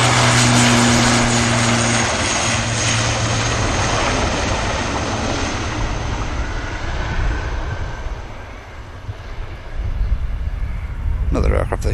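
A jet on approach to Manchester Airport's runway gives a loud, steady broadband engine roar that stays close throughout and swells again near the end.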